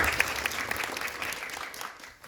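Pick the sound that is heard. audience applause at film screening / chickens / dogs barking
audience applause at film screening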